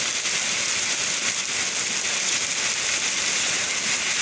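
Steady rain falls without a break, a dense, even hiss with scattered crackling drops, continuous and moderately loud with no voices.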